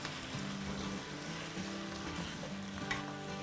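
Mutton frying in a pan as ginger garlic paste is stirred in, a soft, steady sizzle with stirring scrapes throughout, no talking.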